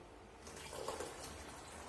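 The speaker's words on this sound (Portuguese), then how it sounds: "Eu vou adicionar um pouquinho de água nesse recipiente." Water poured into a container of coffee, a faint splashing trickle that swells in the middle and then continues softly, with no talk.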